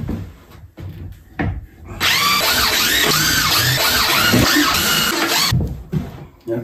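A power drill drives small screws into a scrap-lumber step stool, whirring loud and steady for about three seconds after a few short knocks and handling clatters, with quiet bumps trailing after.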